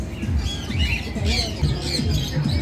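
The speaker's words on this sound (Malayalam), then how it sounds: "ഇതൊരു പഞ്ചവർണ്ണ തത്തയാണെന്ന് തോന്നുന്നു" A multicoloured macaw squawks loudly at a bird exhibition, several harsh, ragged calls in quick succession close by, over a busy background murmur of voices.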